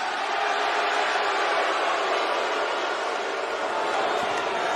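An arena crowd booing wrestler MJF, a steady, dense roar of many voices that holds evenly throughout with no break.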